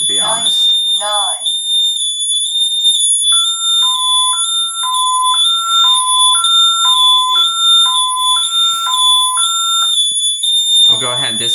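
An ADT Safewatch Pro alarm sounds loudly on a demonstration board, a rapid two-tone siren alternating in a steady pattern over continuous high whining tones, with someone speaking briefly at the start and end.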